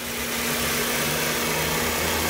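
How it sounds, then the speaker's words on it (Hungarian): Ford Focus 1.6 16V petrol engine, 101 horsepower, with automatic gearbox, idling quietly and steadily from close by, a smooth low hum with the air-conditioning fan running and no talking. "És itt a mocia, nagyon csendesen jár, a klíma ventilátor ugye bekapcsolt."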